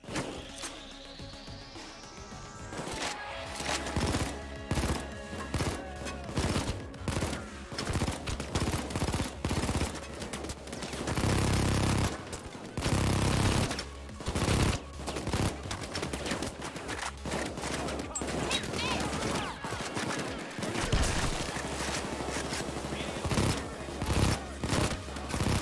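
Dense, relentless gunfire from the video game Payday 2, with rapid automatic bursts and overlapping shots hammering almost continuously at close range.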